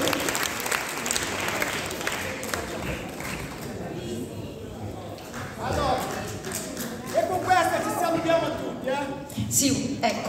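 Applause from a school concert audience at a high school in Tor Bella Monaca, uneven clapping that thins midway and then swells again, with voices and cheering mixed in toward the end.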